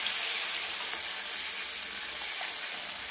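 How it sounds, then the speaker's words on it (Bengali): Chicken kofta curry simmering in oil in a pan as water is poured in, a steady broadband sizzle and hiss running evenly close up throughout. "এবার আমি এদের অ্যাড করবো জল।"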